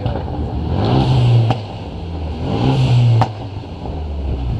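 A Renault Megane 3 RS revs up twice in town, each loud surge of exhaust roar cut off by a sharp crack of exhaust pops, with a quieter idle between them.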